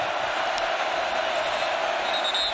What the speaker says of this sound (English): And that crowd noise is real.